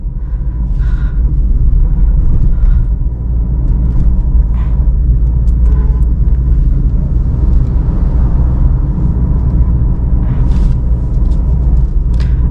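A car's engine runs through second gear on a beginner's driving lesson, a steady low drone with road rumble throughout and no talk.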